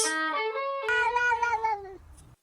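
A kitten gives two clear, close meows in quick succession, the first a high drawn-out cry and the second a wavering, slightly longer call that fades out, heard alone without talk.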